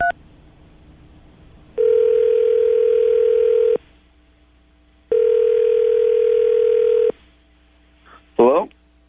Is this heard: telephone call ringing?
yes